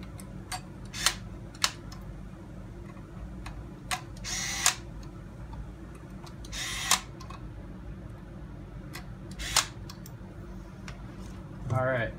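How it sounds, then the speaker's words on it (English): Power drill driving screws into an Axial AX10 RC 4x4 truck chassis, several short buzzing bursts, close and separated by pauses, with a faint background hum. "Now we can tighten up the screws in the back here."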